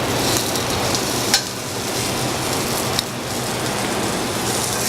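Cipollini onions hitting a hot pan sizzle steadily with crisping bacon, a dense continuous hiss broken by two brief sharp pops, close and loud with no talk.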